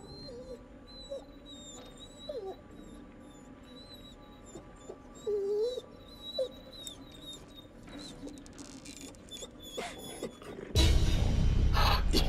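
A dog whimpers faintly in the video game The Devil in Me, thin high whines scattered among quiet ambient tones and small creaks, before a loud rumbling noise takes over near the end.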